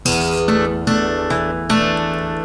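Close, clean fingerpicked acoustic guitar plays a short passage, with several plucked note groups ringing and decaying into each other over a couple of seconds.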